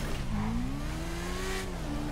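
Motorcycle accelerating hard in GTA 5, a steady engine tone rising in pitch as it revs up, loud and continuous with no talk over it.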